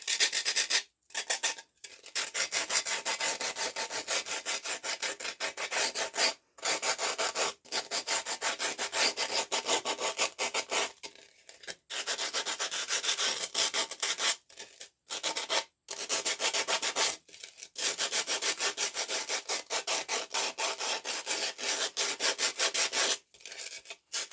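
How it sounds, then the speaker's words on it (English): Coarse 60-grit sandpaper rubbed around the edges of a wooden piece, loud close rasping strokes in long continuous stretches broken by short pauses. "I'm just going to go around the edges and just kind of smooth it all down"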